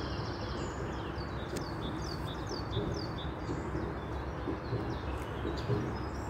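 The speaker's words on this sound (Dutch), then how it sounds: "Allemaal vogeltjes." Small birds chirp outdoors in short, high, repeated tweets at moderate distance over a steady bed of wind and ambient noise, with no one talking.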